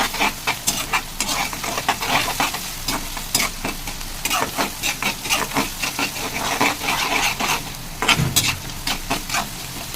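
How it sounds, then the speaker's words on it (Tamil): Onions sauté with salt in a pan for a chicken liver dish, the sizzle broken into quick rhythmic bursts as a spatula stirs and scrapes repeatedly, close and fairly loud, with no speech. "வெங்காயம் வதங்கிறது நான் உப்பு போட்டுக்கிறேன். நல்லா உப்பு போட்டு மிக்ஸ் பண்ணுறேன்."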